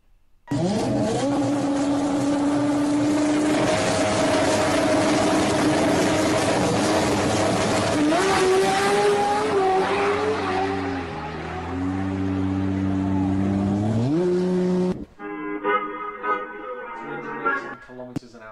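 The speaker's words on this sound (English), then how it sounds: "That's a quick Supra." A Toyota Supra accelerates hard, its engine note climbing in pitch through several gear changes as a loud, continuous rising whine before cutting off abruptly near the end.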